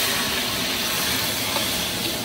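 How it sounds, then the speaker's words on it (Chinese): Winter melon hitting hot oil with scallions in a wok, producing a loud, dense, continuous sizzling hiss that stays steady from start to end with no voices. "烫一下锅，然后加入冬瓜"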